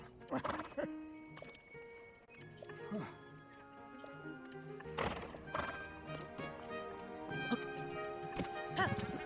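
Rhythmic hoofbeats of a galloping horse clatter steadily in The Legend of Zelda: Tears of the Kingdom, with a whinny and tonal game music layered beneath.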